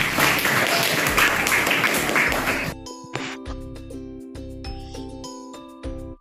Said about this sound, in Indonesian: tepuk tangan kanggo kelas iki